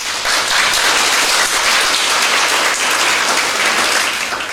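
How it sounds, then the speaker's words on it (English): Sustained congregation applause during an English-language FJKM Protestant worship service at Ambodivona Filadelfia, a dense, steady wash of many hands clapping at full loudness throughout, with no talk over it. "Applause for them."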